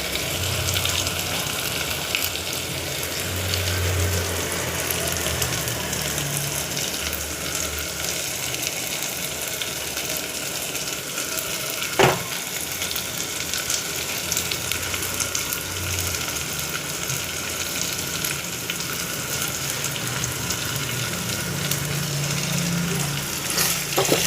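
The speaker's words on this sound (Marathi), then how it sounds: "थोडं हालून घ्या, बटाटा तेलात भाजून." Potato pieces frying in hot oil for a home-style chawli (black-eyed pea) bhaji give a steady, dense sizzle that runs unbroken for the whole stretch, with one brief sharp click midway and no voices.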